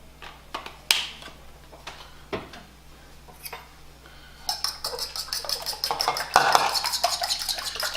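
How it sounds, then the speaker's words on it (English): Eggs are cracked into a bowl with a little heavy whipping cream and whisked into an egg wash. A few sharp taps and clinks come first, then a steady, fast metallic whisking against the bowl, close up and with no voices. "I'm gonna crack a couple eggs into this bowl."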